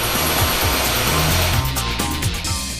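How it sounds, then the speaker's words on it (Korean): A vacuum cleaner stands in for inhalation, pulling air through a bottle sealed at one end with an ordinary face mask and loaded with carbon powder. It drones loudly and steadily throughout, with a rough whirring edge and no voices. "들숨 역할은 진공청소기로 대신했는데요"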